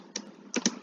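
Keys tapped on a computer keyboard during a web coding session, a few quick close clicks: one tap, a pause, then two in rapid succession.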